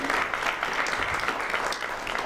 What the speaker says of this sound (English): Please, everybody applaud Kathy.